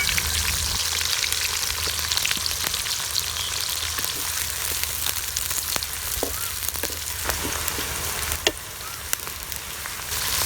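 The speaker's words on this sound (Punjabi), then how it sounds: "ਹੁਣ ਅਸਾਂ ਨਾਲ ਹੀ ਸ਼ਾਮਲ ਕਰ ਦਾਂਗੇ ਪਿਆਜ਼" Onion frying in hot oil with curry leaves, cardamom, black pepper and cumin, a dense continuous sizzle with scattered pops and crackles, close and steady throughout.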